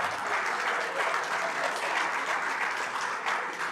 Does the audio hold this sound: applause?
yes